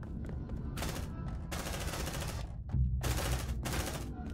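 Rapid automatic gunfire rings out in the video game Aliens: Dark Descent, several loud sustained bursts separated by short pauses over a dense rumbling backdrop.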